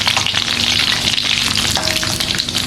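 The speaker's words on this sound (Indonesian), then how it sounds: "Goreng asin." Salted fish frying in hot oil in an Indonesian home kitchen, a loud, dense, continuous sizzle with crackling spatter close up and no voices.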